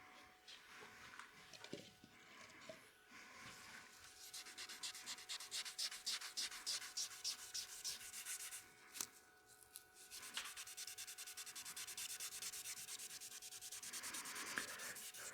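Steady back-and-forth sanding of a CA (cyanoacrylate) finish on a wood blank, a rhythmic close-up scratchy rubbing that runs continuously with brief pauses and no talking.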